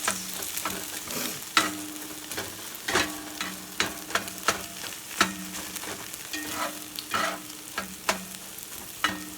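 A corned beef and egg scramble fries in a pan, with a steady sizzle broken by repeated scraping stirs and utensil taps at an irregular rhythm, close and fairly loud.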